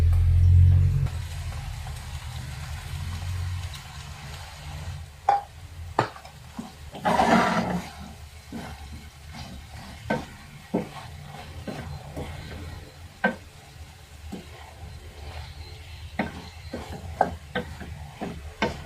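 Winged beans (sigarilyas) tossed into a hot pan, a loud initial sizzle fading into a soft frying hiss, punctuated by repeated sharp clinks and scrapes of a utensil stirring against the pan.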